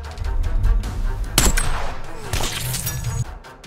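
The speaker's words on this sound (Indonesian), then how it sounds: "dengan sekali tembak, timah panas pun langsung bersarang di kepala si target" A film gunshot in a hitman revenge story, one sharp loud crack killing the target, set against a dense, noisy soundtrack with rumbling low background before and after.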